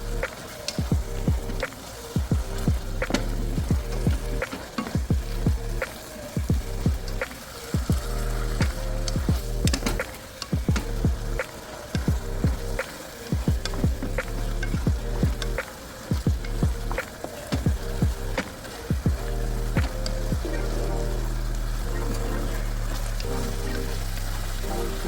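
Mushrooms and vegetables with soy sauce sizzle steadily in a pan, a continuous crackling hiss with scattered pops and faint clinks throughout.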